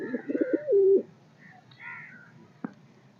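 Home-kept pigeons, a cross of Indian and Pakistani birds, give a soft, low, wavering coo close by at the start, then quieter murmuring calls with a single sharp knock near the end.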